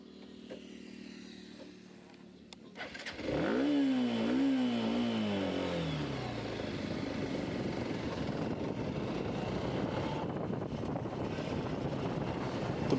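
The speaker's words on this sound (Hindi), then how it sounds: "तो बाइक हमारी शुरू हो चुकी है" A motorcycle engine starts with a sudden burst and revs through a few rising and falling pulls, then settles into a steady drone as the bike rides off on an open road, with wind noise throughout.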